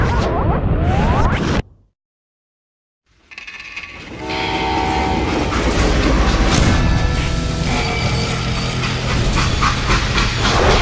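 Freight train in the Call of Juarez Gunslinger video game: a loud, continuous rumble of rolling cars with clanking mechanisms and sustained horn-like tones, broken by a short drop to silence before the heavy rolling noise returns.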